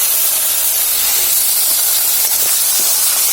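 Prawns go into hot oil already seasoned with bay leaf and dry chilli, setting off a loud, constant sizzling hiss with a few brief crackles as they fry, and no one speaks.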